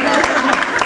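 Applause from an audience at a stand-up comedy show, a short dense burst of clapping that fills the whole moment without pause.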